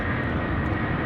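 A Delta Air Lines Airbus A330-300, twenty years old, roars in a steady, loud, broadband rush as it departs Amsterdam Schiphol, with no voices heard.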